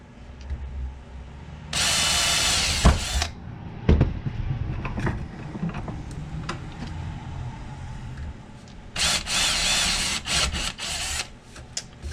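A power drill whines in two sustained bursts, a few seconds each, drilling through aluminum on a Cushcraft A3S antenna trap, with scattered knocks and handling clatter between them.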